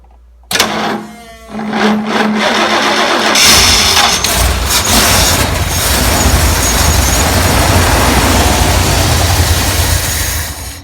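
A Ford 460 V8 engine cranks and fires, then settles into a loud, steady, close rumbling run, after fuel had been fed through the carburetor and with gas spraying from the fuel pump line.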